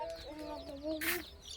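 A hen and her chicks cluck and cheep close by in a village yard, a short burst of rising and falling calls with a brief scuffle of noise in the middle.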